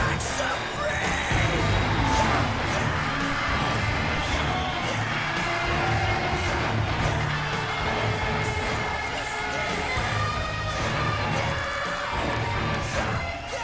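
A dense concert crowd in the video game Cyberpunk 2077, a continuous loud roar of cheering and yelling with music underneath, lasting throughout.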